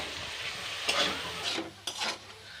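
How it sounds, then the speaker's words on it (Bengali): Potato pieces fried with spices in a pan, with a little water added as they start to stick, sizzling up close while a spatula scrapes and stirs in several distinct strokes, no talk. "সামান্য জল দিয়ে আলুগুলো কিছুক্ষণ কষবো"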